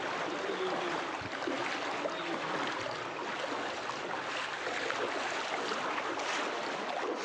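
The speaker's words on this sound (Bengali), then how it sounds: "সেই বৃষ্টি হইতেছে ভাই, বৃষ্টির পানিতে ভাই দেখেন কি অবস্থা।" Heavy rain falls while floodwater flows past, making a constant broadband rushing wash that holds steady from start to end without clear speech.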